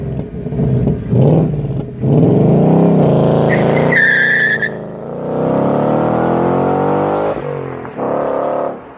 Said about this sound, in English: This car has a 5 litre naturally aspirated V8 which has a very iconic sound.